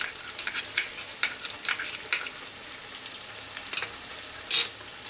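Pointed gourd curry with salt and tomato ketchup is stir-fried in a pan: a steady low sizzle under a series of sharp spatula scrapes and clinks, close and without talk.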